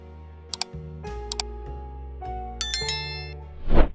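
A bright chiming notification bell effect rings out in a short layered flourish of tinkling tones, followed by a louder rising swoosh at the end, with no voices.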